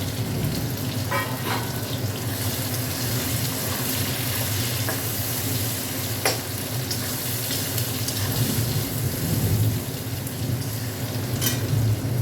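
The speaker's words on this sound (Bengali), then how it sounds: "তাই এবার তেলের মধ্যেই পেঁয়াজগুলো দিয়ে দেবো" Onions sizzle in hot oil left over from frying pomfret fish, a dense, continuous hiss lasting throughout with occasional faint clicks from the pan.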